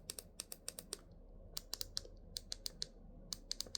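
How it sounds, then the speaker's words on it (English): Clicky, tactile buttons on a Midland HH54VP weather radio pressed repeatedly, giving a run of sharp, close, fairly quiet clicks in irregular bursts with brief pauses and no talk. "I mean, they're really clicky,"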